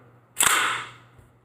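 A staple gun fires into a wooden cabinet base, one sharp close snap with a brief hissing release trailing off, otherwise quiet.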